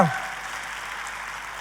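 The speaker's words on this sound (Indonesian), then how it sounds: "Ayo tepuk tangannya yang paling meriah buat Tuhan kita" A church congregation at a Passover service claps together, a steady wash of applause at moderate distance that holds evenly after a brief louder start.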